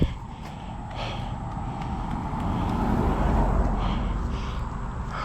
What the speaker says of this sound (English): There's another car.